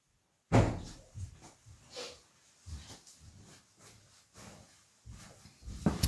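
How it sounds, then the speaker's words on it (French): A door is pushed shut indoors, opening with a close thump and scrape, then soft shuffling handling noises and a second knock of the latch near the end, all fairly quiet. "Je vais refermer la porte."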